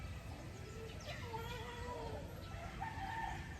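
Gamefowl stags and roosters at a game farm crow faintly in the distance, several drawn-out calls overlapping over a steady outdoor background.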